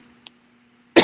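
A single sharp cough from someone recovering from a cold bursts out at the very end, close and loud after near silence.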